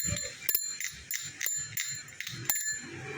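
A bicycle bell rings repeatedly in quick, bright dings, close by, with small mechanical rattles between the rings.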